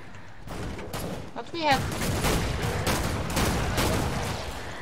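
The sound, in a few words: gunshots from a video game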